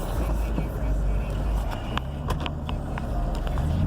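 A Jeep SRT8 fitted with a pedal commander pulls hard in second gear, its engine a loud, steady low drone from inside the cabin that swells toward the end.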